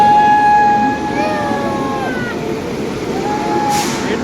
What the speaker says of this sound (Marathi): बघा ट्रेन